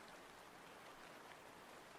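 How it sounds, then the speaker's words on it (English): Steady rain ambience played as background during a livestream, a continuous even hiss of falling rain with no talking, quiet and unbroken throughout. "Rain sounds."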